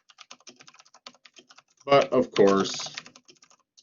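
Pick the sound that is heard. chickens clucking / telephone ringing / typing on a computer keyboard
typing on a computer keyboard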